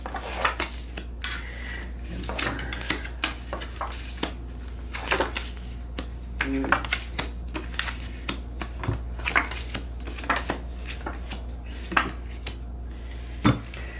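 A tarot card deck being shuffled by hand, a long run of crisp close riffles and slaps in an irregular rhythm, with no talking.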